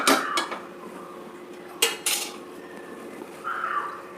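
Metal clanks and clatters in a few sharp bursts as a pressure cooker lid is handled and lifted after cooking avarekalu rice bath, with quiet pauses between.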